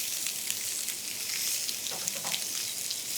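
Rump steak sizzles on a grill over medium-low heat, a steady bright hiss of fat crackling close up with a few louder pops and no talking.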